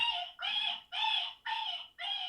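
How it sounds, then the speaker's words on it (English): A repeated high, nasal squealing rabbit call from a predator caller, five even bursts in steady rhythm, loud and close with no other sounds. "It's a wee rabbit."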